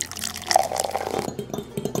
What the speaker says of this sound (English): Let's add 1/4 cup of water.